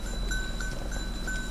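A small metal bell hung on a goat clinks in repeated light strikes over a steady outdoor background near Monte Cassino, Italy, with several rings spaced across a short moment and no voices.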